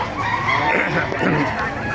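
Chickens cluck and squawk amid a busy, noisy crowd at a poultry market in Baliuag, with a rooster-like call rising briefly over the steady market din.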